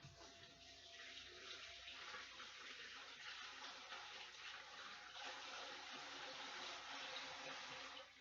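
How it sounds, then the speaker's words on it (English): Water from a tap runs steadily while hands are washed at a sink, a faint, continuous splashing hiss with no breaks. "Wash my hands again."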